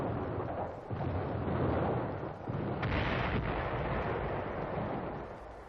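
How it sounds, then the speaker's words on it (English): Wartime artillery rumbles near Villers-Bocage during counter-battery shelling, a dense, muffled roar of booms and blasts sustained throughout with no voices, as from an old archival recording. "British artillery positions near Villers-Bocage under Nazi counter-battery fire"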